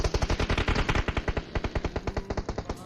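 Rapid automatic gunfire in a video game, a loud, fast, evenly spaced burst of shots that runs nearly continuously with a brief gap midway, heard alone without speech.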